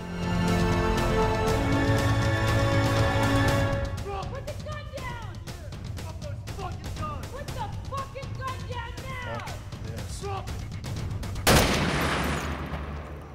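Gunshots in a film scene, heard as a series of sharp bursts under music-like tonal sound and chirps, with a louder crack near the end.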